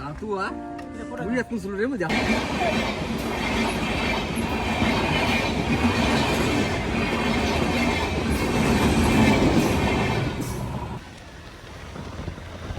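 A train rumbles steadily past a railway level crossing at close range, wheels clattering for about nine seconds before fading, with a voice briefly heard at the start.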